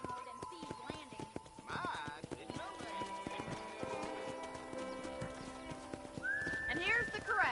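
Horse hooves clip-clop steadily at a ranch corral in Red Dead Redemption, a rhythmic run of close hoofbeats with a whinny, game sounds and a voice talking over them.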